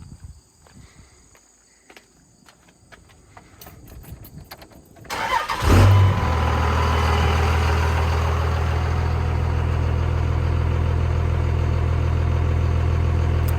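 A second-generation Cummins diesel truck engine with 68k miles cranks briefly and catches after a few seconds of quiet, then settles into a loud, steady, rumbling idle close by.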